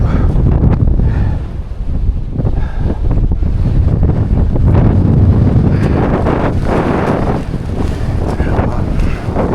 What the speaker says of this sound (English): The wind's too bad to be going down a steep descent like that.